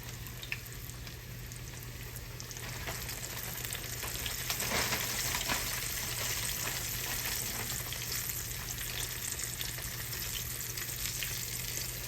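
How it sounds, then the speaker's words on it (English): Chicken-fried steaks frying in hot grease in a skillet, cooked four at a time, give a steady close sizzle that grows louder midway as more pieces go in, with faint stirring and a constant background hum. "we're gonna throw them right here in the grease. I think I'll do 4 at a time because I don't want to overcrowd my skillet"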